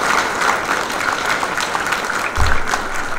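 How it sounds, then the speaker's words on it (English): Audience at a school sports awards ceremony applauds 7th graders, a steady, fairly loud patter of many hands clapping throughout, with a brief low thump partway through. "Let's give them a round of applause for their participation."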